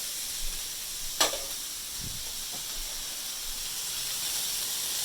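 Pasta with salmon and lots of garlic is stirred in a hot pan, giving a close, steady hiss of sizzling with a few brief scraping strokes of the utensil, no speech.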